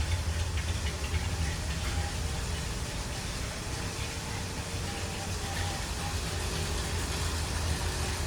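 A 1977 Ford F150 4x4 pickup truck engine idles steadily with a low, rumbling hum and constant hiss, unchanging throughout, close by with no talking.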